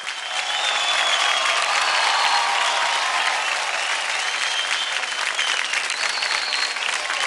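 Studio audience applauding dancers on the Dance India Dance TV show, a loud, dense and sustained burst of clapping lasting several seconds with a faint crowd murmur underneath.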